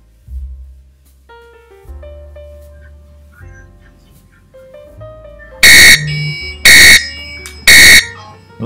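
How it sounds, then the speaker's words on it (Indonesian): A TradingView price alert alarm sounds as three loud, evenly spaced electronic bursts near the end, following quieter tonal chimes. "alarm kita bunyi dan harga menyentuh target profit ya"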